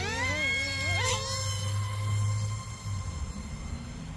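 An XK A100 Su27 RC jet with an 8.5mm motor mod and an 800mAh LiPo flies at full throttle with a thin, high-pitched electric whine. The whine rises sharply, then holds steady and fades as the plane moves away. No one speaks.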